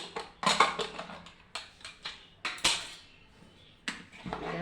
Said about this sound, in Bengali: ঢাকনাটা এবার খুলব।